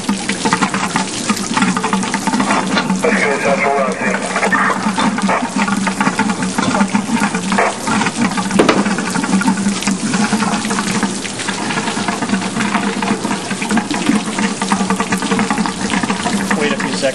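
Water gushes and splashes continuously at close range as a fire truck pump drains, a loud steady rush with a faint voice occasionally beneath it.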